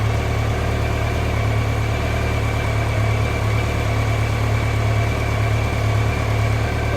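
A 2003 BMW K1200GT motorcycle engine idles steadily, a close, even low-pitched hum and throb with a constant vibrating rumble and no change in revs.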